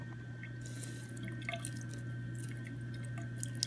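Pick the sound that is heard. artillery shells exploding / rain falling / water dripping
water dripping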